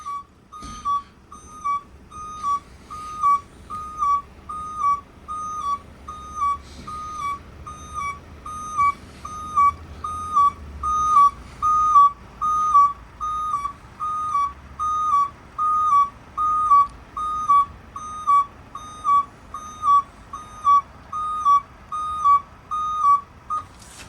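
A 2021 Ford Transit dropside tipper lowers its body, with a regular high warning beep pulsing about once a second over a low hydraulic motor hum throughout.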